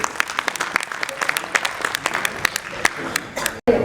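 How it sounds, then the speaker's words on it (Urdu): Audience at a Karachi tribute event to Josh Malihabadi clapping, with distinct close hand claps over a thinner crowd wash, a few voices mixed in, and a brief dropout near the end. "آئیے بہت ساری تالیاں لیے دیتے ہیں"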